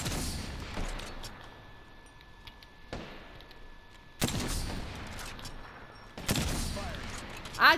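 Gunfire bursts in the Apex Legends battle royale game, several sharp loud volleys spaced a second or two apart over a quieter background of game ambience.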